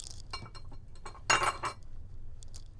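Utensil stirring baking powder into cake batter in a bowl, a series of light clinks and scrapes against the bowl, with a louder burst of scraping and tapping midway.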